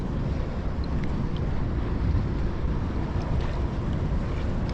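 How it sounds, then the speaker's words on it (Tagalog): Strong wind roars steadily into the microphone outdoors while crabbing in Taiwan, a loud continuous rumble with a watery, open-air wash behind it. "Medyo malakas nga lang po yung hangin ngayon."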